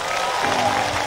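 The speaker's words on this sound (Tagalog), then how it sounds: "Yun lang payag, pumalakpak na malakas." Loud applause from a church congregation at a worship gathering, a dense continuous wash of clapping filling the whole moment.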